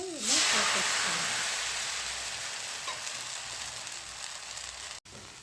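Rava dosa batter hitting a hot pan, a loud burst of hissing sizzle that settles into a steady crackling fry, with a brief voice at the start.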